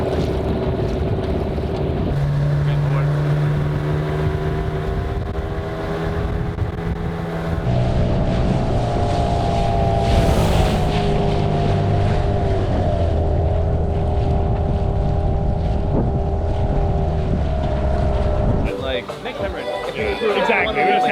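Steady motor drone from a cruising sailboat running its engine on a windy winter evening, with wind buffeting the microphone throughout and people talking over it.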